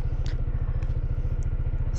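A motorcycle engine running near a scenic East West Road, a steady close low throb with an even rapid pulse, loud and continuous for two seconds with no talking.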